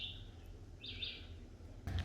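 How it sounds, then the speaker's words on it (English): Birds chirp softly outdoors at a rocky hilltop park, a steady high warble fading in and out over quiet breeze and low rumble, with a brief louder knock near the end. "You can hear the birds chirping."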